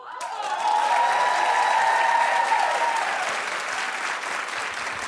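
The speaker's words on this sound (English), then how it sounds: "keep clapping for Paula Abdul" Studio talk-show audience applauding for Paula Abdul, a dense, sustained round of clapping that swells early and then holds steady, with a voice briefly heard over it at the start.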